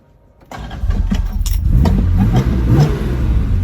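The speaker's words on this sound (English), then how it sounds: "This is a 4-litre straight 6 with about 300 horsepower." A James Bond car's 4-litre straight-six engine of about 300 horsepower, with a five-speed manual, starts up after a brief quiet moment, then settles into a loud, steady, rumbling idle close by.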